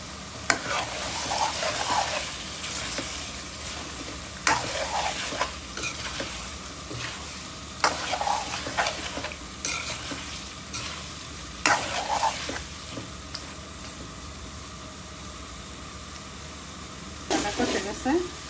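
Boiled and cleaned beef tongue is stir-fried with spices in a pan, giving a loud sizzle broken by repeated scraping bursts of stirring at intervals before the hiss fades lower near the end.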